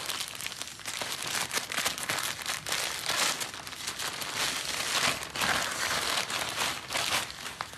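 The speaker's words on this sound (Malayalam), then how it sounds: "നമുക്കൊന്ന് അൺബോക്സ് ചെയ്ത് നോക്കാം." Packaging from an Amazon delivery crinkles and rustles steadily close by during an unboxing of a green laser, a dense, continuous crackle of plastic or paper wrapping with no talking.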